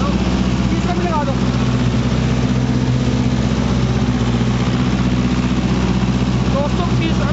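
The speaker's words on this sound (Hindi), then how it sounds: "अब भी उतने ही RPM ड्रॉप कर रहा है ट्रैक्टर।" A Mahindra NOVO 655 tractor engine drives a 9-foot Param rotavator through hard black clay soil, a loud, steady, close-up diesel drone that holds constant throughout.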